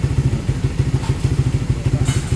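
A Suzuki Raider 150 FI motorcycle engine idles roughly up close, its low, uneven pulses chugging and sputtering in a steady irregular rhythm, the kind of stalling misfire linked to a modified exhaust.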